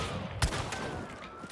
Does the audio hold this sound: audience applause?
no